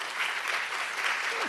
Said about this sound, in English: A round of applause for distinguished panelists